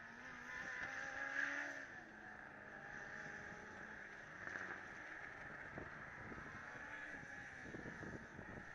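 The University of Navarra Formula Student race car, number 26, drones faintly and at a distance during an endurance run, its engine sounding rough with rattling, a steady low hum broken by slight surges.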